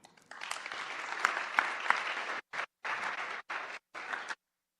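Applause from the chamber for newly elected aldermen at the opening of a legislative session, a burst of clapping that swells, then breaks into short choppy bursts with gaps before cutting off.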